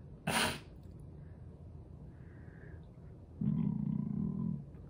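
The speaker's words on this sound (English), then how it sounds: "Boy, I got to sneeze" A single sharp sneeze bursts out near the start, then a quiet pause before a low, rough exhale or grunt follows.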